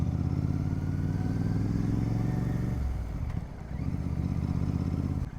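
A Royal Enfield GT 650 motorcycle with a loud aftermarket exhaust rumbles steadily close by while riding through city streets, its engine note dipping briefly before picking back up.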